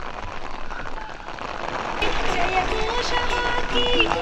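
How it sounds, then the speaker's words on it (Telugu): Rain falls steadily at the foggy birthplace of the Kaveri River in Coorg, a dense close patter that grows louder halfway through while voices murmur underneath. "వర్షం కూడా స్టార్ట్ అయిపోయింది."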